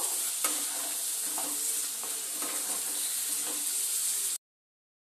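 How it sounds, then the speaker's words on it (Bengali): Fish roe fritters stir-fried with potatoes in hot mustard oil, a loud steady sizzle broken by occasional scraping stirs, close up and without talk, ending in a sudden cutoff to silence. "এবার আলুর সঙ্গে বড়াটাকে খুব ভালো করে কষিয়ে নেব।"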